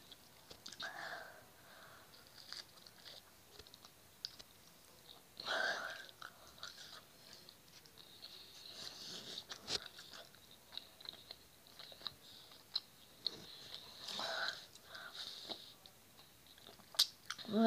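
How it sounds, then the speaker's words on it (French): Someone eating Nutella crêpes close to the microphone, with soft irregular chewing and moist mouth sounds in bursts across a quiet room, and faint whispering or low talk at moments. "c'était une dégustation de crêpes"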